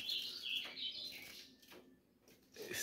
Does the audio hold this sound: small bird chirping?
yes